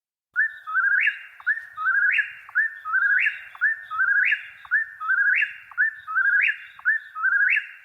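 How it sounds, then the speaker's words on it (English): A whippoorwill calls repeatedly in a steady, rhythmic series of loud whistled phrases, each rising sharply at the end, clear and alone against silence. "I don't think the sound it makes sounds anything like whippoorwill"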